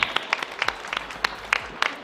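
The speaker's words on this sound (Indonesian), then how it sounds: "Yes, tepuk tangan dong." Steady applause from an audience at a car launch event in Indonesia, a dense patter of many hands clapping without pause.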